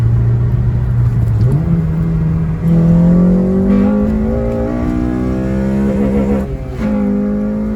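An 8th generation Honda Civic on its original clutch accelerates hard, the engine droning and rising in pitch through the revs, with a shift near three seconds and another near six and a half, loud and close from inside the car.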